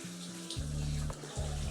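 Running tap water pours over soaked vegetables being rinsed in a kitchen, a steady close rush with the flow briefly interrupted and shifting as the vegetables are moved under it.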